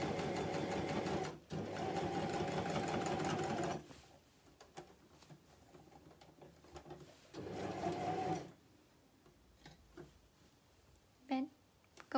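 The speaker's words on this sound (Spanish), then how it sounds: "Generalmente uno en la colletera cose" A coverstitch sewing machine stitching fabric makes a fast, close mechanical rattle in two bursts, one long and one short, separated by quieter handling noises.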